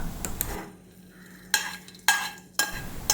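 Raisins frying in hot ghee in a pan for rice water halwa: a soft sizzle is broken by three sharp, close spoon scrapes and clinks against the pan, spaced about half a second apart.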